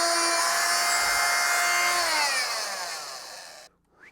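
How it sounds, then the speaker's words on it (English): Oscillating multi-tool slicing through the plastic shroud edge of a Cub Cadet 3X snowblower held in a vise, a loud, steady high buzzing that drops in pitch as the cut finishes, then cuts off abruptly. "we're gonna hit it with a multi-tool"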